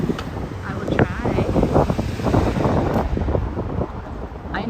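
Strong wind buffets the microphone on a small-town street near Broadway, a steady loud rumble with gusts throughout, with a voice talking briefly over the roar.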